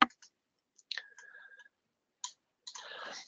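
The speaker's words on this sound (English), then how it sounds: "We'd still highlight our proposal and click our cash receipt button" A computer mouse being clicked while working in accounting software, giving a few sharp, isolated clicks close by, separated by short faint pauses and set against near-silence.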